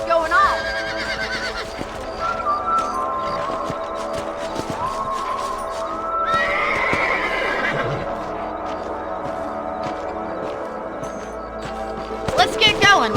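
Horses neighing with hooves clip-clopping in the Western video game Red Dead Redemption, whinnies rising near the start and middle over a steady ambient bed, with voices speaking at points.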